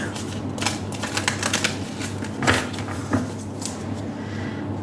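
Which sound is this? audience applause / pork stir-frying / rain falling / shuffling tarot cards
shuffling tarot cards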